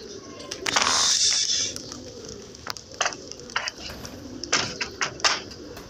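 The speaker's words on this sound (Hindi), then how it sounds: "ऊपर तक कबूतर ही नज़र आ रहे हैं।" Pigeons coo from a rooftop in repeated soft, low bursts, with rustling and flapping wing sounds and occasional knocks close by; young birds are among them.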